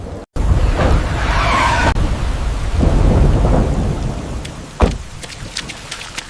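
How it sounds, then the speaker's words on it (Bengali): Heavy rain pours down steadily while thunder rumbles low and long, with a sharp crack near the end. "আজকে এত বৃষ্টি হচ্ছে যে কোনোভাবেই থামছে না"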